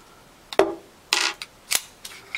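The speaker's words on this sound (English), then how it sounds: "Slide is off." A KWA gas blowback airsoft pistol has its slide removed: a few close, crisp metallic clicks and a short scraping slide, with quiet pauses between them.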